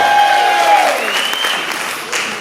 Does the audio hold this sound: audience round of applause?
yes